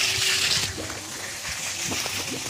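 Water flowing and sloshing into a filling tank at a village home in Mithbav, a steady near gush with a few faint thuds and knocks over it.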